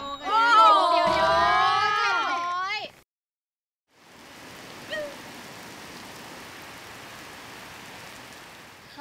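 Someone speaks briefly, then after a short silence steady rain falls, a soft, even hiss of drops on a surface continuing to the end.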